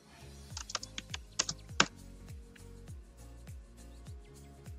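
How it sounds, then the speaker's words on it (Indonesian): Typing on a computer keyboard while entering a label in a Visual Basic .NET program, with a quick burst of sharp keystrokes early on, then a slower run of soft, evenly spaced clicks, close and alone. "yang pertama kita ketikkan di situ loading"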